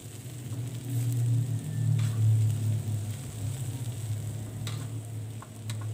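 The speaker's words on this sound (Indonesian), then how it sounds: "nah kembali lagi saya aduk-aduk agar bawangnya ini juga tercampur merata dan juga matang" Rice vermicelli fries in a pan with spring onion and celery, giving a steady, close sizzle broken by faint scraping and ticking as a utensil stirs the noodles.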